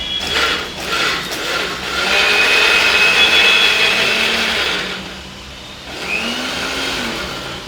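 A kitchen mixer grinder whirs loudly and close while grinding green chutney, its motor pitch rising and falling as it runs in bursts with a brief dip before it starts again.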